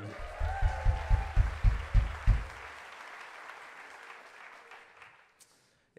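Folk festival audience applauding a banjo player: a run of heavy, rhythmic thumps beneath a wash of clapping that fades away to near silence, ending with a sharp click.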